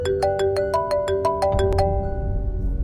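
Incoming-call phone ringtone playing a repeating electronic melody of bright plucked notes, loud and close, cutting off after about two seconds into low background rumble.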